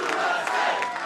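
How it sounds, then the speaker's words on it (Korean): A large crowd at a US primary victory rally roars and cheers as former President Trump appears. The cheering is loud and continuous and fills the whole brief moment. "승리를 확정한 트럼프 전 대통령이 나타나자 함성이 터져 나옵니다"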